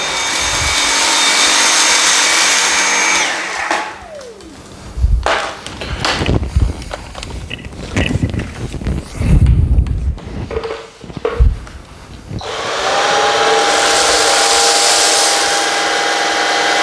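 A Dyson V7 Motorhead cordless vacuum picks up kitty litter on a hard floor: a loud, steady whine with a gap in the middle filled by rattling, clattering litter and handling knocks, then the whine resumes.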